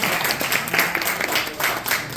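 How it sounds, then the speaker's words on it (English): At a Democratic political club forum in Bed Stuy, Brooklyn, an indoor crowd gives a steady, dense wash of applause, moderately loud and continuous throughout with no one speaking over it. "You can applaud for that."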